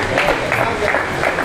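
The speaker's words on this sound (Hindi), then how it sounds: "भरपूर तालियां।" Audience applause at an Urdu poetry recital, a short burst of many hands clapping at close range, with a voice speaking over part of it.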